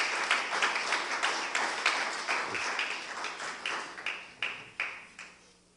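A church congregation claps together in a steady, rhythmic beat, many hands at once filling the room, with the claps thinning out and turning more separate toward the end.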